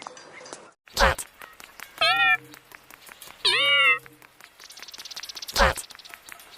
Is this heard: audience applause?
no